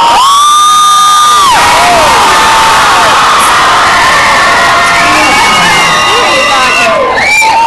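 Concert crowd screaming and cheering for an indie pop duo, a loud, dense wall of high shrieks and whoops sustained throughout with swelling peaks.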